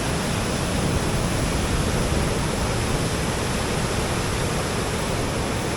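Dam overflow water rushes past in a loud, steady, unbroken roar that fills the whole span, with no voices over it.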